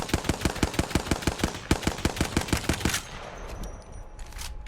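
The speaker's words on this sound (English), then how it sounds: "this gun right here is just OP. Like, just look at how fast this gun shoots" A Havoc rifle in Apex Legends fires a rapid, evenly spaced burst of about fifteen sharp shots, then goes quiet, leaving faint game noise behind.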